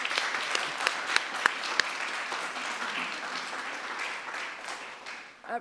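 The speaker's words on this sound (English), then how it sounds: "can I ask you to give a round of applause to our researchers?" An audience at a research launch on frontier workers' rights after Brexit gives the researchers a round of applause, a full, steady burst of clapping with a few loud individual claps standing out near the start, tapering off at the end.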